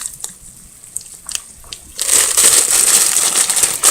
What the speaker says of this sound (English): Now I'm going to add my frozen vegetables. I'm going to add this whole pack of corn